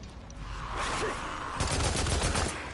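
Rapid bursts of Growler gunfire in a video game, two close, loud volleys back to back with no talking.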